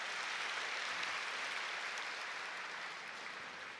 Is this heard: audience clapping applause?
yes